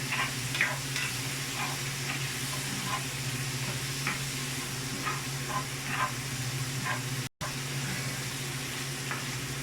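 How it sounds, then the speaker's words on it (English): Chunky chili con carne with pork stirred in a pot: a steady sizzling hiss runs throughout, with soft repeated stirring scrapes and a brief dropout near the end. "Give it a stir."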